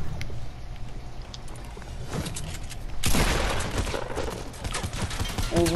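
Quad launcher in Fortnite firing a burst of rockets, a rapid string of sharp blasts and explosive booms that swells loud partway through, with excited voices in the mix.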